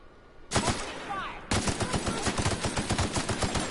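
Gunfire in the video game The Outer Worlds: a few loud single shots, then sustained rapid automatic fire with a steady dense rhythm, close and loud.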